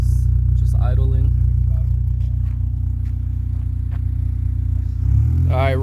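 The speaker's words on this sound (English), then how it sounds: "Let me show them how it sounds just idling." An Acura TSX fitted with a Skunk2 cat-back racing exhaust idles with a steady, deep low rumble throughout, while people talk over it and the engine note shifts slightly at the end.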